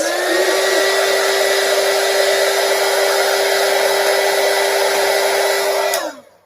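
Heat tool blowing steadily while setting slow-drying water-based pigment ink after stamping, a constant loud whooshing airflow with a fixed hum that runs nearly the whole time, then cuts off and winds down at the end.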